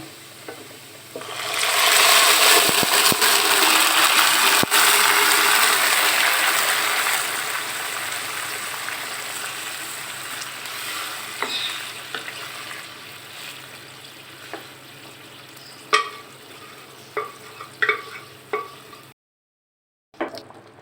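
A burst of loud sizzling as beef hits hot oil, slowly settling into a softer fry with occasional scraping and clinks.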